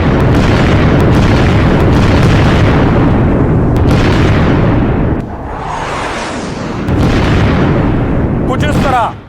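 Missiles strike a road in a series of heavy explosions, producing dense, loud rumbling booms that roll on continuously with a short lull in the middle and a sharp burst near the close.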